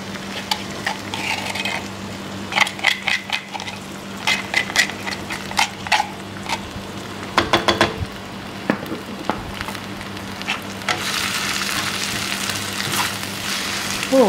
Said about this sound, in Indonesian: bumbu yang tadi kasar-kasar ya, kulek aku tumis sebentar ya